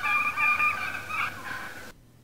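A wild turkey gives a kiki call, a couple of high, thin whistled notes that waver and rise in quick succession, close and clear before cutting off into silence.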